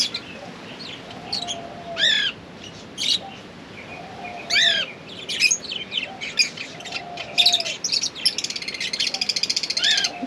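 Pet birds chirp and squawk through a steady background hiss, with sharp, repeated tweets and occasional lower calls coming in irregular bursts that grow busier toward the end.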